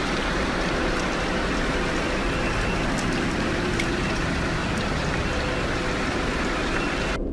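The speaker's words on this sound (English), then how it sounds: "so he decides to take a random video of the rain" Steady rain pours down outdoors at a home in Arlington, Virginia, a dense continuous hiss of drops on surfaces, loud and even throughout with no voices.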